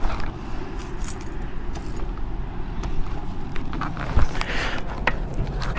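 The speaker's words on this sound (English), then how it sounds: "Oh, man, my keys are around my neck." Keys worn around the neck jangle in steady metallic clinks at a gas station, over a low rumble of traffic and idling engine noise.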